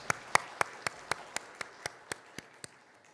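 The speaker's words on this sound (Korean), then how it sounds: "다시 한번 우리 큰 박수 하겠습니다." A church congregation applauds the choir in unison during a Sunday service: about a dozen crisp, evenly spaced claps in a slow, steady rhythm that softens slightly toward the end.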